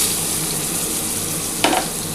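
Diced papaya frying in a pan with only a little oil, giving a steady close hiss of sizzling with a brief louder crackle near the end as the pieces are stirred; no one speaks.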